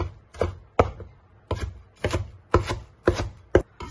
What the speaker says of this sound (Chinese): 黄瓜丝擦好之后，我们给它改一下刀，随便来上几刀就可以了